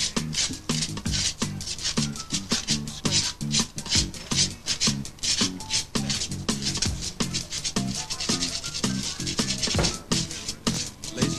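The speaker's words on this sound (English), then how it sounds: "Okay, scrape that toast, boys." Burnt toast scraped with a knife by a street band, laid out as a steady run of rhythmic rasping strokes in time with the band's instruments throughout.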